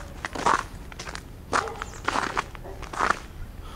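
Footsteps crunch over ice and snow about eight inches deep in Hampton Roads, three crisp, close crunches at an even walking pace.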